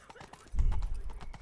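In The Witcher 3, a horse's hooves clop softly on the ground for about a second, a few close, fairly quiet steps with a low thud as the horse moves up.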